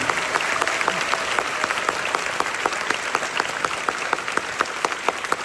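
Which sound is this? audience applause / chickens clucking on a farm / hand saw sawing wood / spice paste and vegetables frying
audience applause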